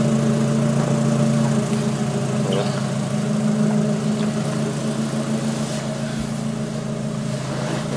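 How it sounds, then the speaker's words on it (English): A supercharged Lotus Elise Sport 220 with its intake snorkel deleted runs steadily, a loud continuous engine drone with a constant hum from the supercharger and no talking. "so I can hear the supercharger noise"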